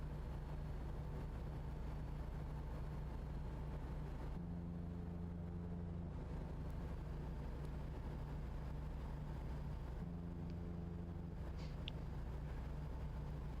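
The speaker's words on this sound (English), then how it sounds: "sounds almost like a boat horn" A truck horn with a deep, boat-like tone in a truck-driving video game sounds two long blasts, each about a second and a half, over a steady engine drone.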